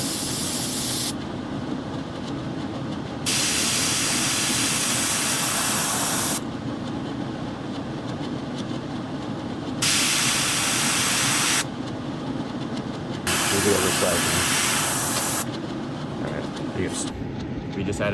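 Airbrush spraying yellow and orange paint onto a glide bait, bursts of steady hiss starting and stopping in several long passes with short pauses between, close and loud.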